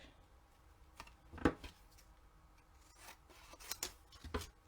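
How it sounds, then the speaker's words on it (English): Scissors snip a piece of garden green cardstock for a paper craft box, producing a few faint, sharp cuts spaced irregularly against a quiet room with slight handling noise. "we're going to just cut a piece of this lovely garden green cardstock"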